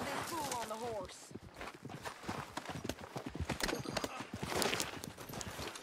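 Horse hooves clip-clop in Red Dead Redemption 2, a steady run of close, rhythmic hoofbeats with a horse's whinny near the start and voices talking over it.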